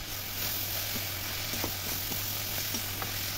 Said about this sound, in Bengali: সবজিটা আমি 5-7 মিনিট নাড়াচাড়া করে নিয়ে জল দেব।